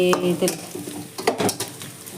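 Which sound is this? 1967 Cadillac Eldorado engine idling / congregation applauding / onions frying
onions frying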